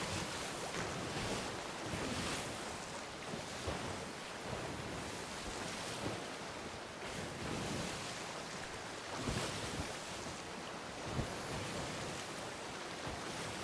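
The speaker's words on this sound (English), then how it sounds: "Please don't hit me, waves." Ocean waves crash and surge in a Sea of Thieves game session, a dense, continuous roar of surf and wind with periodic swells, loud throughout and without speech.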